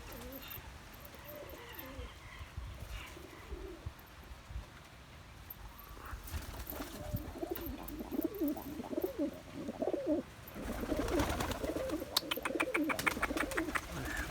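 Pigeons coo softly and intermittently while feeding on purslane, with rustling and pecking that grow busier and louder toward the end; no one speaks.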